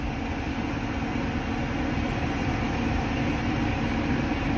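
A tow truck engine runs at the roadside after a crash, a steady, loud, continuous rumble with broadband mechanical noise that holds level throughout, with no talk over it.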